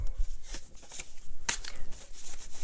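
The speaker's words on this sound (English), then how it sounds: "I'm going to shuffle it again." A deck of message cards being shuffled by hand during a card reading, with soft papery riffles and a sharp flutter near the middle, close and fairly quiet.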